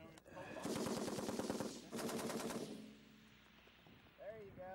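An M-60 machine gun fires two sustained bursts of rapid, loud shots on a heavy weapons range at F. E. Warren, followed by quieter range ambience with a brief voice at the end.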